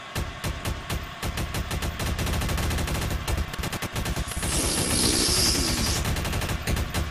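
Rapid automatic fire from a spin gun in the video game Garry's Mod, a dense, continuous stream of loud shots with a burst of hissing noise partway through.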